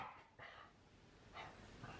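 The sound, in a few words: small dog barking in the background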